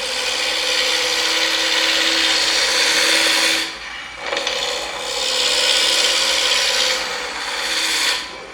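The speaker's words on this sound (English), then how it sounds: "you can hold the tool perpendicular to the spinning work that you're turning" A wood spindle turning on a lathe with a hand-held turning tool cutting into it gives a steady, close scraping rasp that briefly softens twice as the tool eases off, then resumes.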